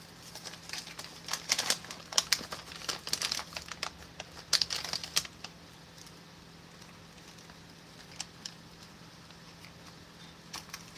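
An MRE ration pouch is cut open across the top and handled, giving sharp crinkly plastic rustles and snips in a busy cluster, then sparse faint crackles against a low steady hum.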